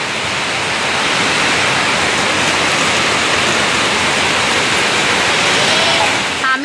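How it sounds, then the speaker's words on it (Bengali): Heavy rain pours down outdoors in Bangalore as a dense, loud, unbroken roar of falling water that stays constant throughout. "প্রচণ্ড জোরে বৃষ্টি।"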